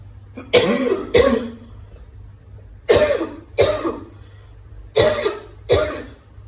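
Three pairs of sharp coughs, each pair quick and close together, spaced out with short pauses between, loud and near with no talking.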